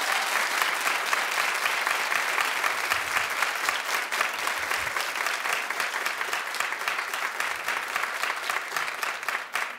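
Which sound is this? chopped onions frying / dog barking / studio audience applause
studio audience applause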